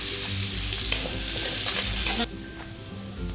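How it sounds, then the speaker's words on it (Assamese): Sliced onions and two raw green chillies sizzling in hot oil in a pan while being stirred, with close frying crackle and scraping that drops off sharply near the end. "আৰু লগতে কেঁচা জলকীয়া দুটাও দি দিছোঁ।"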